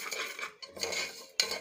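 Lentils for a dal rasam being dry-roasted and stirred in a pan, giving bursts of scraping and clinking close by, with short pauses between strokes.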